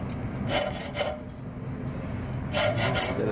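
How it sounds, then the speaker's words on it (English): A coarse square file is drawn across metal at a forge in two pairs of rasping strokes, a pause between them, each stroke close and scratchy against a quiet background. "Plain old square file. Yeah, I, I just use it because it's coarse."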